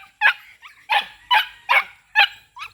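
A lively pet dog barks in short bursts, about six sharp barks spaced roughly half a second apart, close and loud with no talk over them.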